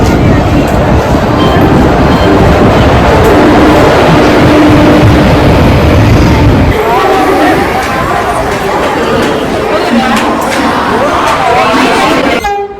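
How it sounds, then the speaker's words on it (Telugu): Vande Bharat train arriving at Anantapur railway station: a loud, continuous rumble with horn-like tones, and the roar drops abruptly about halfway through. Crowd chatter and talk run underneath. "నా ట్రైన్ వచ్చేసింది"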